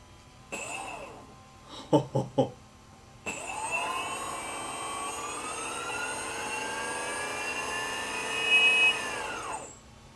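An electric skateboard's motor spinning up to a loud whining drone that rises and holds near the listener, preceded by a few short bursts, then winding down abruptly at the end.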